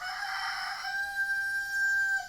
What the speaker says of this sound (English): you're going to hear some roosters. It's actually sitting really close.